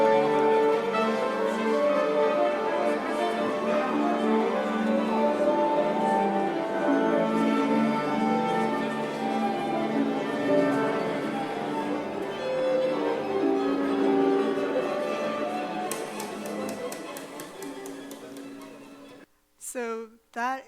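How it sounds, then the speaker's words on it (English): A concert orchestra tunes, its many instruments converging on one shared pitch in a loud, sustained, harmonically rich drone that fades out near the end. A few brief bursts of speech follow. "that's the sound of the orchestra tuning as all the different instruments all meet on one pitch."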